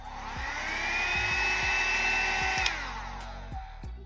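A handheld heat gun for alcohol ink work blows hot air with a steady whirring hiss, loud and close, rising and then falling away as it is shut off, with a few faint clicks underneath.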